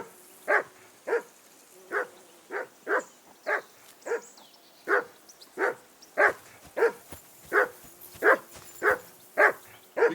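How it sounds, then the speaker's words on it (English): A dog in Kingdom Come: Deliverance II barks in a steady, evenly spaced series of about sixteen sharp yelps, moderately close and alone against a quiet background. "Be quiet, you flea-bitten hound."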